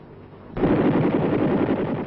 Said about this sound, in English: It's the first time gunner, chopper, and M60 work together.